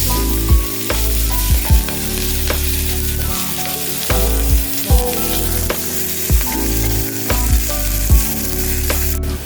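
Ginger garlic paste sizzles and fries in a hot pan for mutton keema curry, a steady loud crackle broken by repeated sharp stirring scrapes and knocks, close up with no voices.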